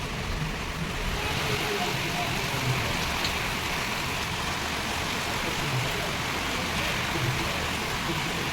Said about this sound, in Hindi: एकदम से पता नहीं कहाँ से इतनी बारिश आ गई अचानक से